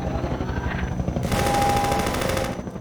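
A helicopter gunship in the video game Half-Life 2: Episode Two, a loud throbbing rotor drone that swells into a burst of rapid gunfire before fading.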